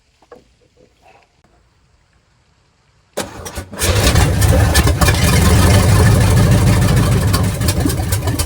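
A small motor with a coil hooked up, fed from a can of gas, is quiet at first with faint handling noises, then fires right up and runs steadily and loudly until the end, with no talk.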